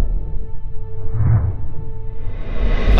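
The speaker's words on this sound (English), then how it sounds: "So a housefly that usually flaps its wings 200 times a second sounds like this." Housefly wingbeats slowed down to a low, droning rumble with a steady buzzing hum underneath, swelling slightly in the middle and continuing throughout at a loud level without voices.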